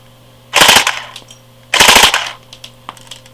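A Cottonmouth AKS-74U airsoft rifle fires two close, sharp bursts of rapid full-auto shots separated by a short pause, with a steady electrical hum between them.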